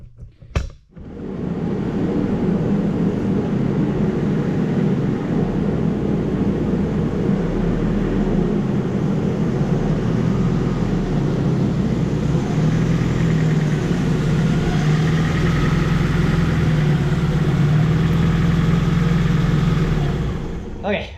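A steady, loud engine rumble from a Geo Tracker running continuously with a low, droning hum, briefly preceded by a knock or thump at the start.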